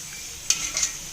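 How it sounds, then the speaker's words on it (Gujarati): Pakodi fry in hot oil with a steady, close sizzling hiss, broken by a couple of short scraping stirs of a spoon or ladle in the pan. "તેલે ગરમ થઈ ગયું છે અને બાકી બધું મટીરિયલ પકોડીનું આપણું જે હોય રેડી થઈ ગયું છે"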